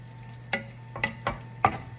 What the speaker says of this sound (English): Mix this all up and cook it just a little bit longer